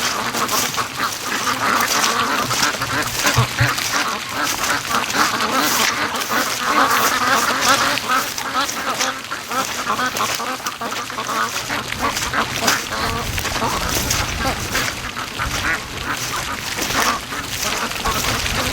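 Wild ducks in a yard quack steadily and loudly in a busy chorus, many birds calling over each other nonstop, with the odd honk mixed in.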